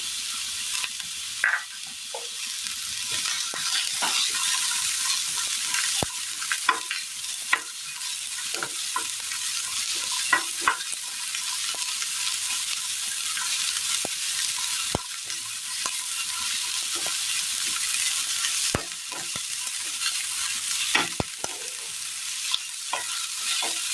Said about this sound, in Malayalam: തീ കുറച്ച് വേണം ഇത് വഴറ്റിയെടുക്കാനായിട്ട്.